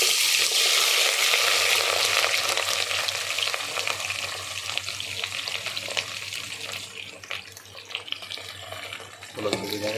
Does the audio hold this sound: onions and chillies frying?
yes